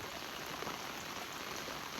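Light, steady rain falls on a farm field at night, a soft continuous hiss of drops with no other sounds standing out.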